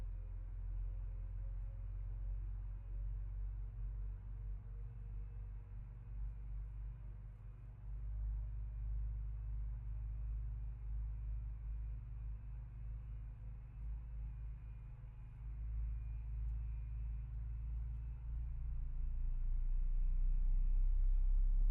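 Engines start up on a plane in Microsoft Flight Simulator, a low steady rumble that holds level and then swells louder near the end, with no talk over it.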